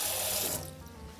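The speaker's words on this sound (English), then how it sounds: "coming out straight hot from the tap" Hot tap water runs from a kitchen faucet in a steady, close, hissing rush that softens slightly partway through, with no voices.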